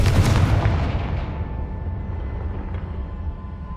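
A Confringo blasting spell in Hogwarts Legacy bursts in a loud, close explosion at the start, then a long rumbling decay fades away with no talk over it.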